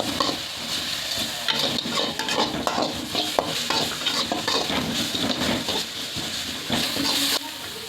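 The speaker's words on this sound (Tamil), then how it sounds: "எல்லாத்தையும் கலந்து விட்டுருவோம்." Ginger garlic paste stirred in a hot frying pan for a meal maker curry, continuous sizzling under repeated scraping and clinking of a spoon against the pan, close and busy with no talking.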